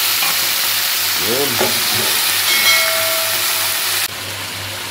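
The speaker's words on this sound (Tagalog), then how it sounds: "At ngayon, isusunod na po natin ang ating kangkong." Water spinach goes into a simmering coconut milk stew for tilapia, a loud steady sizzle and hiss with stirring scrapes, and the heat drops noticeably near the end; a voice speaks briefly.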